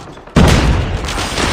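Gunfire in a multiplayer first-person shooter match breaks out suddenly after a quiet moment, a dense loud burst of shots and booms that continues as a sustained roar of overlapping fire.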